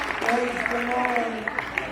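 Light, scattered golf-clap applause from a church congregation at a UPCI service, soft sparse claps over a murmur of voices.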